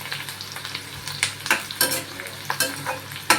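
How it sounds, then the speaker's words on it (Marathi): Onion and garlic sauté in hot oil for tempering rice, a close sizzle broken by repeated sharp scrapes and stirs of the spatula. "मस्त कांदा आणि लसूण चांगली परतून घ्यायची."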